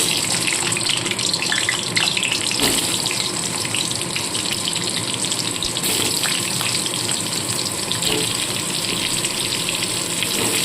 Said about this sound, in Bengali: তেলটা গরম হয়ে গেছে প্রথমে আলুগুলোকে ভেজে নিচ্ছি